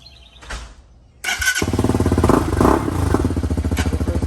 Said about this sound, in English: Starts up pretty quick, so turn the key. Let the fuel pump prime.